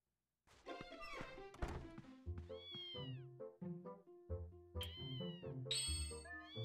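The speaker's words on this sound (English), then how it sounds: "That cat up there doesn't know how to get down." Cartoonish cat meows from Zelda: Twilight Princess HD, a cat stuck up high, several rising and falling mewing calls over bouncy game music and soft thunks, loud and close with no talking.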